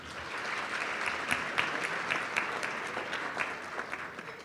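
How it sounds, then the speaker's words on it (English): Audience applauding at an awards ceremony honoring students, steady clapping from a room full of people with no voices over it. "we would still like to give him a round of applause"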